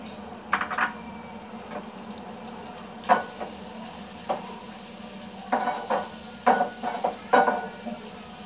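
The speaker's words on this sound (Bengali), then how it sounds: "আমি এখন একটু পেঁয়াজ ভেজে পটলগুলো মশলা দিয়ে কষাবো।" Onion frying in a pan for a pointed gourd dish, a faint steady sizzle broken by scattered scraping and clinking strokes of a spatula, closer and busier toward the end.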